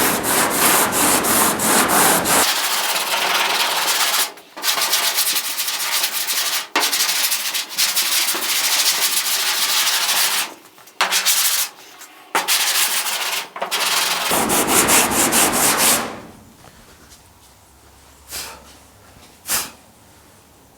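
Body filler on a Pontiac GTO restomod's quarter panel is sanded in loud, close, steady scraping passes, broken by several short pauses before the rubbing trails off into quiet near the end.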